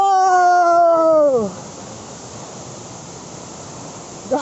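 A huge waterfall near Bagha Sarahan roars in a steady, loud broadband rush. A man's drawn-out exclamation sits on top of it at first, then the roar carries on alone.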